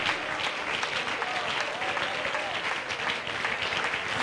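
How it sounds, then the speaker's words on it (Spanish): A church congregation applauds steadily at a Sunday service, dense even clapping filling the room from start to finish with a faint murmur of voices underneath. "Fuerte, fuerte ese aplauso al Señor."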